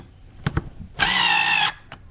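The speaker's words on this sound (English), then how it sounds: "you need a T20 Torx bit, which is right here in my little gun thingy" A cordless screw gun with a T20 Torx bit whirs in one short burst of under a second, backing a screw out of a BMW e90 328i mass airflow sensor. A couple of small clicks come just before it.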